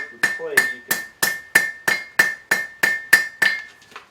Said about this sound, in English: I'm using this side of the hammer in creating the pinch point between the rounded horn of the anvil and the semi-rounded face of the hammer